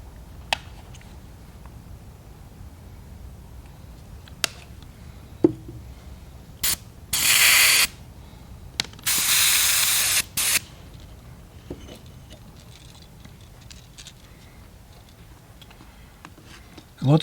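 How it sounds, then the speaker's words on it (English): Airbrush spraying Wicked Gold paint onto a fishing bait, two loud hissing bursts of a second or so, with faint clicks and handling noise around them. "Now let's add a little bit of Wicked Gold into the airbrush."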